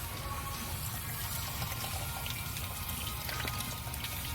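Water gushes steadily through a 1995 Jeep Cherokee cooling system during a back-flush, a continuous close rushing flow with no talk over it.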